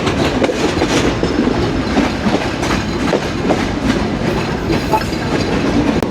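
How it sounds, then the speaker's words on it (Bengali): The Rupsha Express train runs along the rails in a loud, continuous rumble with rhythmic clickety-clack from the wheels, heard from on board with no talking. "দেখুন অনেক সুন্দর লাগছে দেখতে আজকে রূপসা এক্সপ্রেস ট্রেন"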